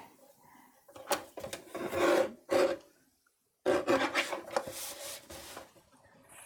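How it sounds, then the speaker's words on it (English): Paper panel for the front of a handmade card being trimmed on a cutter, heard as close rasping, scraping strokes in two bursts separated by a short silence. "So I'm going to trim down a panel for the front of my card."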